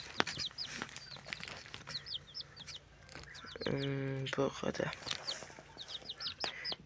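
A hen clucks in quick, repeated bursts close by, with one longer drawn-out squawk in the middle and a person speaking briefly.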